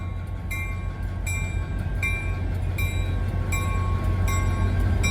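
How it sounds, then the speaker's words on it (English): An EMD GP30 diesel locomotive built in the early 1960s at the Nevada Southern Railway, heard as a steady low engine rumble with a continuous loud drone and faint repeated high clicks over it. "This 844 is an EMD GP30 built in the early 1960s."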